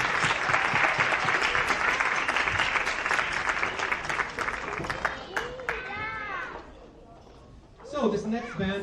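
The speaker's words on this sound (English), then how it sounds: "And another round of applause." A school end-of-year concert audience applauds the student band in a dense, steady wash of clapping that fades after about six seconds, then a voice speaks up close.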